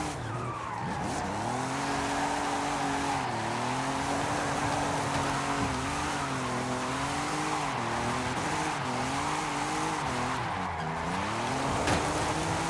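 Fast car in Forza Horizon 5 sliding sideways, engine note rising and falling continuously while tires squeal through long drifts, loud and unbroken throughout.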